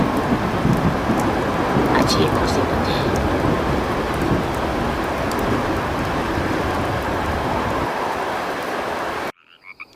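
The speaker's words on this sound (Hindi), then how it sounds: "साथ में बारिश भी तेजी से चल रही थी" Dense, heavy storm rain pours steadily with a deep rumble under it and faint croaks in the mix, then cuts off abruptly near the end.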